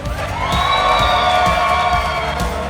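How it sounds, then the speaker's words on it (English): Wedding guests at a reception roar and cheer loudly, a dense crowd of whoops and shouts with some clapping mixed in, steady and close throughout. "can I get a huge roar and round of applause for my beautiful new wife here?"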